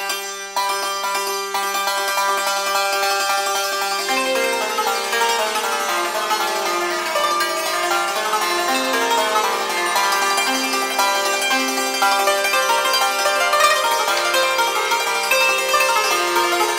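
A santur, the Persian hammered dulcimer, is struck in a one-right, two-left stroke pattern, producing bright, ringing metallic notes in a steady, continuous, fairly loud stream with no voices.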